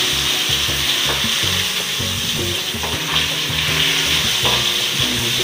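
Fish pieces frying in hot oil in a pan, a loud, steady crackling sizzle with dense sputtering that fills the whole span, close up and with no voices.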